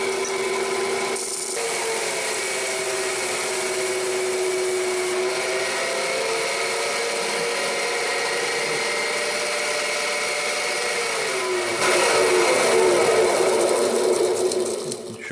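A homemade belt grinder runs steadily with a fresh sharpening belt still bedding in, giving a continuous motor whine and belt hum that swells louder near the end, with no talking.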